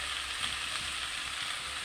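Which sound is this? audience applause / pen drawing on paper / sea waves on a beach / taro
taro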